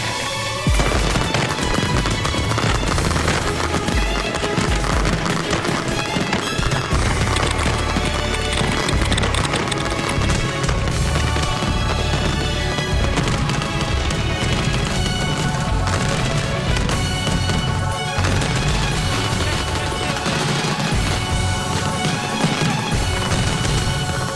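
A fireworks finale of hundreds of shots fired in a rapid burst: loud, dense, continuous crackling and banging without a break, with no talk.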